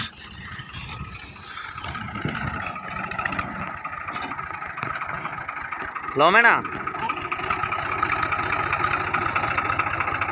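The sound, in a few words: tractor engine idling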